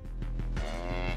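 A cow mooing in a video game, with low drawn-out lowing calls repeating over a steady background of music or game noise, loud and close, no talk.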